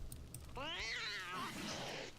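A cat in World of Warcraft gives a drawn-out, rising and falling meow, one clear call heard alone over a low background hum.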